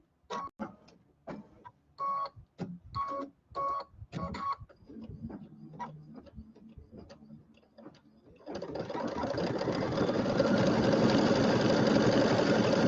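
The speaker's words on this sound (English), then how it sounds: "it's going to do a little outline around the outside edge, just kind of a basting stitch" A sewing machine basting an outline stitch around a mug rug's edge, first in short bursts of rapid stitching separated by pauses and clicks, then settling into a continuous, loud, steady whir for the final seconds.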